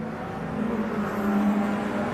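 A race car on a circuit during qualifying in an MG Cup, Metro Cup, BCV8 or Cockshoot Cup session, its engine droning steadily at a moderate distance and rising slightly as it comes over, with no talk.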